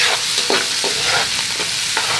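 Ginger frying in butter in a pan for pig's-head sisig, a loud, close sizzle broken by rhythmic stirring scrapes about every half second.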